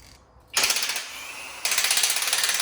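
Long bolt on a burnt Yamaha Banshee being spun by a rapid ratcheting tool: two loud bursts of fast, even clicking, close up, with a short pause between them and no talk.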